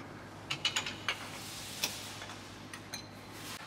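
A torque wrench clicks while tightening a bolt to 55 foot-pounds on a Mustang GT350 suspension: a run of sharp, close mechanical clicks spaced irregularly over a quiet background, with a few fainter ticks near the end.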